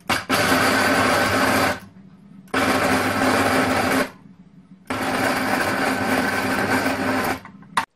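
A kitchen grinder whirs through almonds with sugar and cinnamon in three loud, steady bursts of a few seconds each, separated by brief quiet pauses, with no talking.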